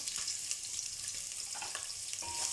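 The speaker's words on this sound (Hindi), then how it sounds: "सबसे पहले प्याज को ऑयल में फ्राई करते हैं" Onions frying in oil for aloo gosht shorba, a loud close hiss of sizzling with crackling pops and a faint clink of stirring, continuous with no voices.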